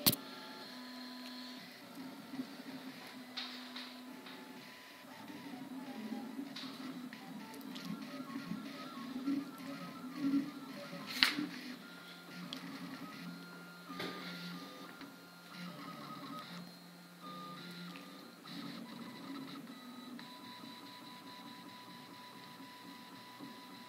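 A RepRap 3D printer runs its first trial print, stepper motors whirring and buzzing steadily in shifting tones for the whole stretch, close by, with no talk.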